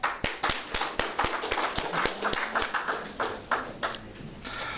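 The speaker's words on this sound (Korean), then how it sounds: "나오실 때 뜨거운 박수 부탁합니다." Clapping at the founding convention of a national-security interfaith coalition, loud sharp hand claps in a quick uneven rhythm, starting with distinct individual claps and building into a denser round of applause.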